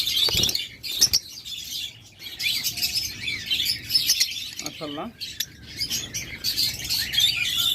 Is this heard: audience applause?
no